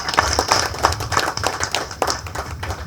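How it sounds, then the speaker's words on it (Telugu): An audience at a public speech event about Ambedkar claps in scattered, uneven bursts, with individual claps standing out, moderately loud, in a room. "ఆపకుండా మనం చప్పట్లు కొట్టాలి."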